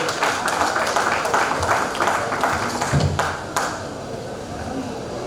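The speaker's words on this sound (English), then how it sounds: "Please give him a big round of applause." An audience at a swearing-in ceremony at Lagos Country Club breaks into a steady round of applause, continuous clapping under a speaking voice that thins out and softens toward the end.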